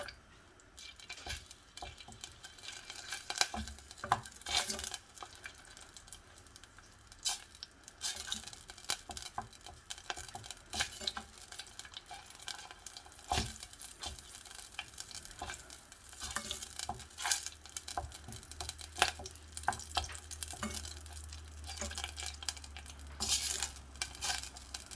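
Kochari stirred in a pot, a spoon scraping and clinking against the sides in irregular bursts over a soft background sizzle, close and moderately quiet.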